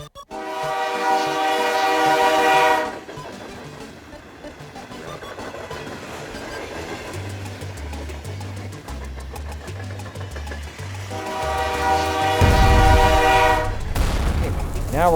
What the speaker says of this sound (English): Hey, what's going on here, train? Get out of here, train.